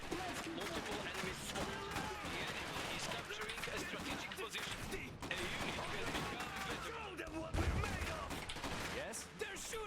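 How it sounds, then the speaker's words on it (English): Gunfire in the video game Iron Harvest, dense volleys of rifle and machine-gun shots crackling continuously in a battle, with a heavier blast near the end and game voices mixed underneath. "They're shooting at us!"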